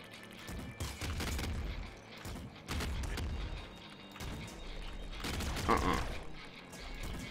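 Minigun fire in the video game Nuclear Throne, a dense sustained barrage of rapid shots in repeated bursts, loud and close, with brief gaps between volleys.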